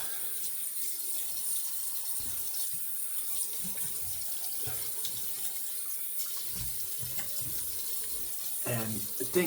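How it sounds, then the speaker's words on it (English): A tap runs steadily into a sink to rinse a razor after a face and head shave, a quiet continuous hiss of flowing water with light splashing and clinks. "All right, so let's rinse."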